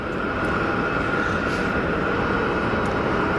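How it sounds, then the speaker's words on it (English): A Pilatus PC-12 turboprop inbound to Geneva Airport, heard as a steady, fairly loud engine roar and airflow drone that holds evenly throughout without any talk. "There's the PC-12."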